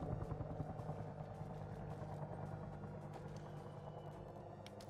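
A helicopter passes overhead in the Arma Reforger military game, with a continuous rhythmic rotor chop and low engine drone at moderate distance, and a faint murmur underneath.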